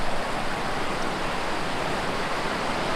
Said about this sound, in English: You can hear the water running quite well.